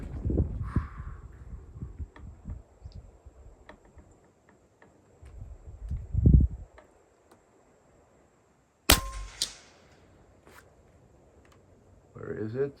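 Rifle shots at shooting targets: a few sharp cracks stand out, one loud report near the end, with quiet handling noises and low talk between them.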